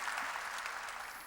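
Church congregation clapping during a sermon, a brief, even burst of applause from many hands heard at moderate distance.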